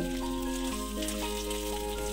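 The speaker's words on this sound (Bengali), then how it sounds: "এবারে আমি খুব হালকা হাতে মাছের উল্টো দিকটাও ভেজে নেব।" Small mourola fish fry in a kadai, making a soft, even sizzle that carries on without a break under a low, steady hum.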